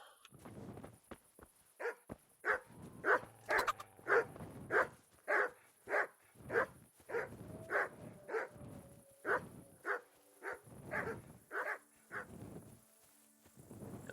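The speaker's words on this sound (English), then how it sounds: "Those dogs just need to calm down a bit." Dogs in the medieval game Kingdom Come: Deliverance bark in a steady string of regular, fairly close woofs with short gaps, and a faint insect-like buzz runs underneath.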